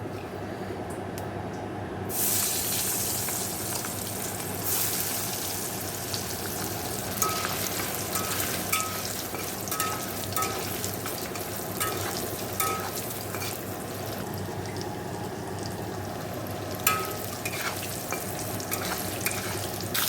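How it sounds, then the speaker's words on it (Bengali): Paneer fries in oil in a wok with a steady close sizzle and crackle that swells sharply as pieces go in, with occasional clinks and spatters over the constant hiss. "তেল দিয়ে দিয়েছি রান্না করবো পনির"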